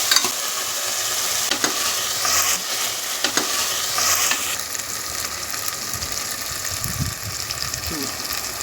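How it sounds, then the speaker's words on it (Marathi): Spices and masala fry in a pan in a home kitchen, with a constant close sizzle, the scrape of stirring and a few sharp clinks. Quiet talk can be heard in the background. "व्यवस्थित फ्राय करून घेते"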